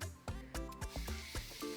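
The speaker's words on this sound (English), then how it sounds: "What I'm gonna do first is obviously spray my hair so that we are not working on dry hair" A handheld spray bottle mists water onto dry natural hair in several short, close hissing bursts, each a quick soft spritz separated by brief pauses, quiet and with no talking.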